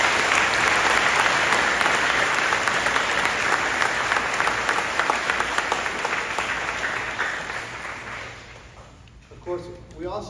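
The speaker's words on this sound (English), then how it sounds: "Let's give them a round of applause and thank them for their support." An audience at a fifth grade celebration applauds in a dense, sustained wave of clapping that slowly thins and fades near the end, where a voice begins to come through.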